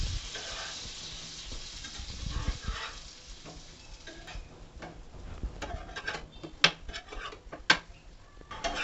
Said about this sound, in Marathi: बटरची एक किट या तव्यामध्ये घालून हे सर्व ब्रेड आपण गरम करून घेणार आहोत